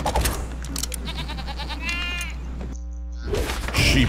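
A sheep creep enemy in the Skylanders Trap Team video game lets out a loud, wavering bleat, joined by bursts of game sound effects and a short electronic tone.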